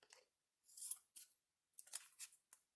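Scissors snip through paper while trimming a doodled flower page in a composition journal, a few quiet, crisp cuts in separate bursts with short pauses between them.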